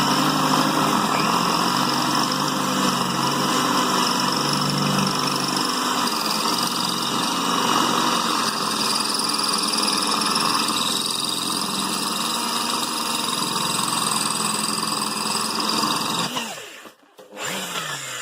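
A power drill bores holes into the floor to bolt down a manual tyre changer, its steady whining motor running continuously and fairly loud for a long stretch before stopping abruptly near the end.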